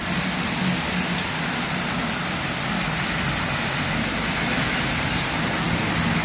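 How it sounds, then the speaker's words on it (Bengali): Heavy monsoon downpour in Comilla, a loud, dense and unbroken roar of rain hitting surfaces, with a faint hint of traffic underneath and no speech. "কিভাবে মুসলধারে বৃষ্টি হচ্ছে"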